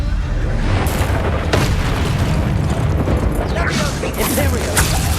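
A Bombarda spell blasts off in Hogwarts Legacy, a loud booming explosion burst with bright crackling debris, over a constant dense rumble of game sound, with a second flare of noise near the end.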